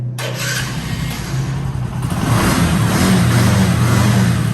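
A Bajaj Discover 125 motorcycle engine starts abruptly and then runs with a steady, close, loud roar that swells as it is revved, with no talking.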